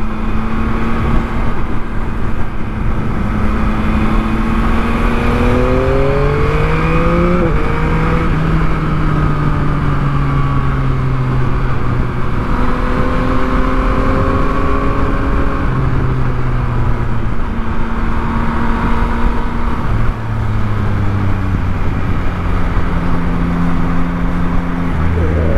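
A Yamaha MT-09 motorcycle engine pulls steadily while climbing uphill, a loud continuous drone whose pitch rises and falls through gear changes, heard close throughout with some speech over it.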